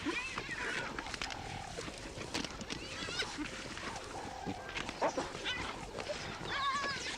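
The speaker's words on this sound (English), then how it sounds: "the entire clan plunges into deafening chaos. Explosive growls, piercing whoops, bites, shoves, and violently colliding bodies" Spotted hyena clan feeding at a carcass, a chaotic mix of growls, rising whoops and squeals overlapping in quick succession, with a narrating voice running beneath.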